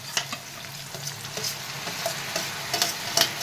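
Cucumber and tomato curry sizzling in a pan while a spoon stirs it, with a steady moderate fry and repeated light scraping taps.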